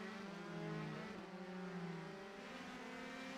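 Race cars in a racing video game during the Grand Prix of Ohio, several engines droning together in a steady, close, sustained whine that shifts slightly in pitch as they run side by side.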